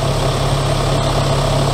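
A Massey Ferguson 6460 tractor engine runs at a steady, loud idle with a constant low rumble and vibration while it draws water into a tank, with no talking.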